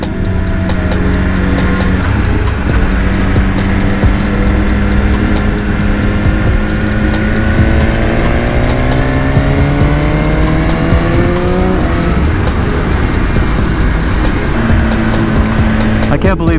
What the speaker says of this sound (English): I can't believe I'm riding in Angeles Crest right now with a BMW S1000R